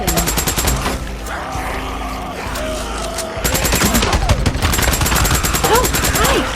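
Loud, rapid automatic gunfire from the zombie video game Days Gone, aimed at a horde at an old sawmill, with sustained bursts broken by a short pause, plus scattered game sounds and groans underneath.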